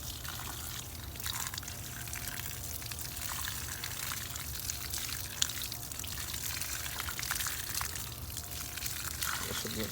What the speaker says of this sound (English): grab your water hose and rinse him off